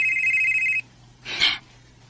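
A mobile phone rings with an incoming call in a Bisaya drama scene: a steady electronic ringtone that cuts off abruptly, followed by a brief louder burst of sound, with no talking.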